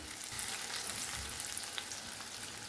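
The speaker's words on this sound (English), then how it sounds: "cook till the onions turn light brown in color. Add in green chilies according to your taste." Onions and green chilies fry in a pan, a soft, even sizzle with light stirring scrapes running close and steady from start to finish.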